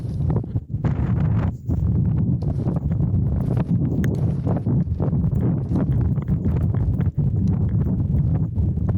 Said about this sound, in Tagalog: Ang harsh na ng weather, oh. Lakas ng hangin.